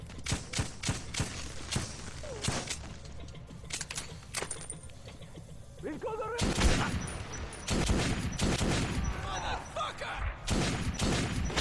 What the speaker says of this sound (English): It's a shotgun to your face!